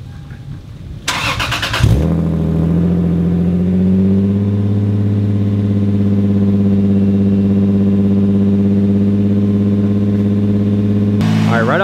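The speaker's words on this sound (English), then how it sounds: "I'm gonna go ahead and try to start this thing up and see how it runs" A 2002 Lexus IS300 with a running problem cranks briefly, catches and settles into a loud, steady idle that sits a little high, droning evenly close to the microphone.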